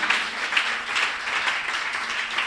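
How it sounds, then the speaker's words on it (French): A church congregation applauding during a French-language sermon, a steady even clapping from many hands, moderately loud and continuous throughout. "On peut acclamer cette merveilleuse parole."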